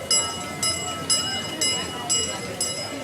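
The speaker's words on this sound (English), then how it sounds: "Look at this train." Steam engine train heard nearby in Los Gatos, California, with a steady rhythmic chuffing beat about twice a second, each puff sharp and hissing.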